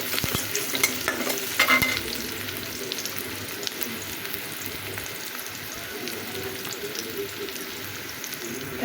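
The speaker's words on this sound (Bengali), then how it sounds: "এখানে পেঁয়াজটা হালকা ভাজা হয়ে গেছে" Onions sizzle and fry in hot oil with cardamom, cinnamon and bay leaf, with steady crackling and occasional stirring scrapes for a few seconds, alone without talk.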